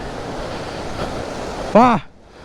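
Steady rushing monsoon water in Valparai fills the scene, a broad continuous roar close by, with a brief voice breaking in near the end before the sound drops away.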